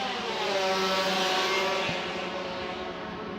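Saloon race cars roar steadily around a circuit during a race, a dense continuous engine drone with layered tones holding at high revs, fairly loud and unbroken.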